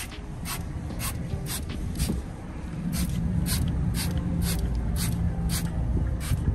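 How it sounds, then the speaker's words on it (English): Water-based tire dressing misted from a spray bottle in short, sharp hisses, about a dozen bursts in an irregular rhythm over low, steady background noise. "So we sprayed it on."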